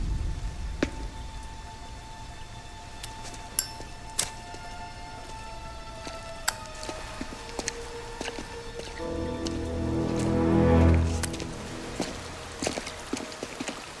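Rain patters and drips steadily in Mafia Definitive Edition, scattered clear drops over a soft wash, with a low rumbling swell building and fading around the middle.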